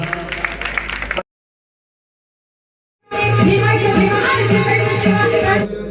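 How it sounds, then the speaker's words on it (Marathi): Loud, dense applause from the audience at a civic felicitation event, with a brief cheer first, then a sudden silence, then a sustained burst of clapping that lasts a few seconds. "एकदा जोरदार टाळ्या झाल्या पाहिजेत"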